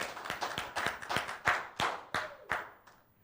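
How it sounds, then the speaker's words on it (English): A small group claps for fundraiser sponsors, about ten sharp separate claps in a loose, uneven rhythm that thin out and stop, fairly faint and heard alone. "Let's give them a huge round of applause and show some love in the chat below."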